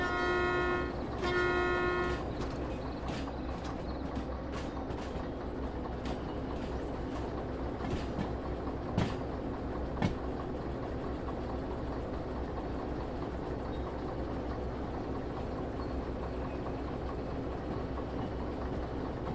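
A train in the railway game Derail Valley rolls along the track with a steady low rumble and engine drone, occasional clicks and clanks over the rails, and a brief tonal horn-like sound near the start.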